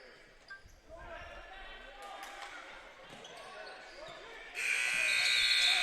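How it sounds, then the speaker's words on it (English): A loud, sustained buzzer blares near the end of a boys' high school basketball game, over a noisy gym crowd with shoes squeaking and a ball bouncing, commentary underneath. "the buzzer will sound"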